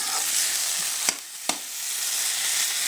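Finely chopped curry leaves fry in hot oil, giving a steady, bright sizzle and crackle throughout, with two short sharp pops near the middle and no voices.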